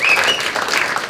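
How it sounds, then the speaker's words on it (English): A live poetry festival audience gives a short burst of dense clapping that stays steady and fairly loud across the moment. "so give him a big applause."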